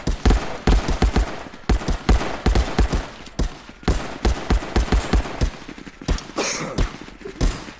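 Rapid pistol gunshots from a beginner pistol fitted with a red dot sight in the Contractors VR shooter, a dense run of sharp, loud cracks in quick irregular bursts across the whole stretch, close and punchy.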